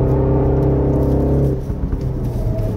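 Exhaust flap on a 2024 Mini JCW Countryman ALL4 on a winding road: loud engine whir and rumble eases as the accelerator is released, followed by a mechanical rattling, clattering burble near the end.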